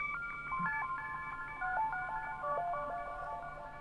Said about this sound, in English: when I play one note, you're hearing the pitch go up and down